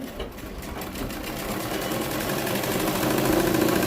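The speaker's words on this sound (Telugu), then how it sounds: "ఇది కూడా డబుల్ కుట్టు వేస్తున్నాను. ఈ విధంగా డబుల్ కుట్టు చేసుకోవాలి" Sewing machine running steadily while stitching a double seam on a blouse, a continuous close mechanical whir that builds slightly louder toward the end.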